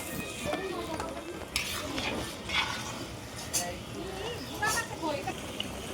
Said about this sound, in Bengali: মশলাটাকে এখন খুব ভালোভাবে কষিয়ে নেব যতক্ষণ না পর্যন্ত মশলা থেকে তেল ছেড়ে আসে